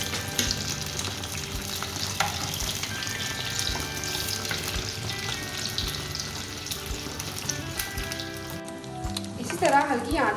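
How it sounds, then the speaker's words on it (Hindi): Paratha fries in hot oil with a steady, fairly loud sizzle throughout, with some stirring or clatter toward the end and a voice faintly under it. "तेल गर्म होने के बाद पराठा उसको फ्राई कर लेंगे।"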